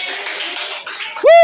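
A church congregation claps together during a worship service, a dense, steady wash of applause that ends in a sharp, rising tonal whoop.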